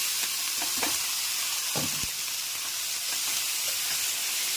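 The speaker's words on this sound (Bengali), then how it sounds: "এবার ফোড়ন আর চিংড়ি মাছ একসাথে ভাজা ভাজা হোক" Prawns and chopped banana stem fry with spices in a pan. A constant crackling sizzle runs throughout, with scraping stirring strokes clustered near the start and middle, and no talking.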